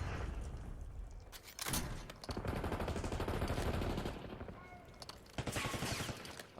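Grenade explosions in Black Ops 6 multiplayer, two loud close blasts separated by a burst of rapid gunfire, with more shots and impacts following.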